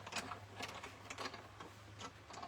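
A sewing machine stitches a quilt block in short, steady mechanical bursts about every half second, close and moderately quiet, over a low steady hum.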